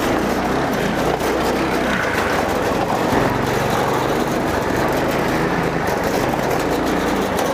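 Side-by-side UTV with big 25-inch tires spinning, a steady, loud engine roar and rumbling drive noise filling the whole stretch without letup, no voices over it.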